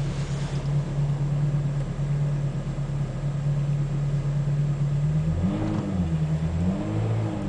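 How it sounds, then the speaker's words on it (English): A Ferrari drives past on the road, heard from another moving car as a steady mid-pitched engine drone that swells and then revs up and down toward the end, with no talking over it. "Pennant, Liverpool player and right wing, in his Ferrari with his pimped out number plate."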